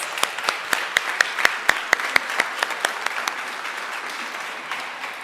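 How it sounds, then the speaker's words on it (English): Audience applauding a speaker at a gathering, with sharp individual claps standing out over a moderate crowd wash that fades gradually toward the end. "I think we can give Victor another round of applause."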